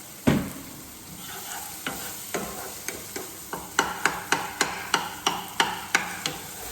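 Meatballs sauté in hot oil in a pan under a constant sizzle, punctuated by a regular series of sharp knocks as a utensil keeps them moving, growing quicker and more evenly spaced toward the end.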